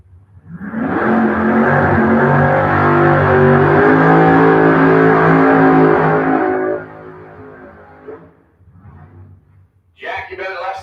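Two nitrous-fed red Chevrolet Camaros, a 1968 and a 1969, roar off the line in a drag race, a loud sustained engine howl for several seconds that drops away, then a short burst of sound near the end, with announcer talk over it.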